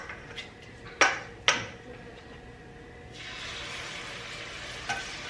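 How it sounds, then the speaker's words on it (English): Oxtails frying in a pan for a Southern oxtails-and-gravy dinner: two sharp utensil clacks, then a steady loud sizzle that builds and holds, with a faint clink near the end. "Here's the sizzle."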